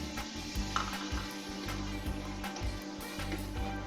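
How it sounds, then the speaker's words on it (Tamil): Tomato puree fries with sautéed onions in a pan, a continuous close sizzle broken by repeated stirring scrapes and light clinks of a utensil against the pot. "வெங்காயம் நல்லா வதங்கிட்டு இப்போ டொமேட்டோ பியூரி வச்சிருக்கோம்."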